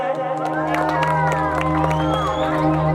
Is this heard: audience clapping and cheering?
yes